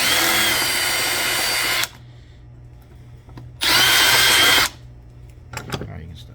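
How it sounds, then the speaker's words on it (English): A power drill cuts off bolt heads on a solenoid in a trawler repair: two loud, sustained bursts of high whining drilling with a quiet pause between, followed by faint clinks. "so the heads are drilled off, not quite as much as I would like"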